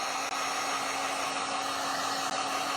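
A heat gun blows hot air steadily to dry clay on an upcycled aluminum can, giving a continuous close whooshing roar with a faint hum and no pauses.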